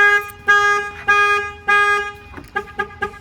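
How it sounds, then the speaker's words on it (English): An aftermarket car alarm on a Pontiac Solstice blares loudly and close by, cycling through a steady tone that repeats in pulses and then switches to a faster chirping pattern. "If somebody opens the door, like they Slim Jim the door, the alarm will fire off."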